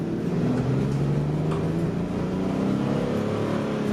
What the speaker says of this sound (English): I'm going to go from a dead stop, slam on the accelerator